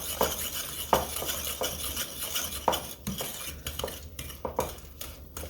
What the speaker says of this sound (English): I'm just going to stir this up. And I'm using a Dutch or a Danish whisk